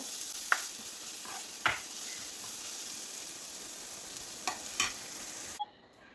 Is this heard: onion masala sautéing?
yes